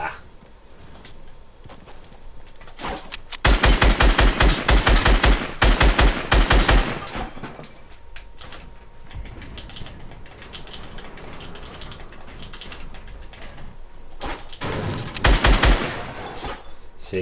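Bursts of rapid automatic gunfire in Fortnite, two long loud volleys near the start, then quieter game sounds, and a final short burst near the end.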